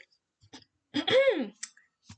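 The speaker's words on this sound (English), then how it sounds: "Don't interrupt the hiccups." A single close, voiced hiccup with a sharp catch in the throat and a short rising squeak, among faint clicks and quiet breathy noises.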